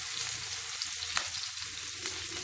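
Masala-coated prawns fry in a pan with a loud, continuous sizzle, broken by a few faint clicks of stirring. No one speaks.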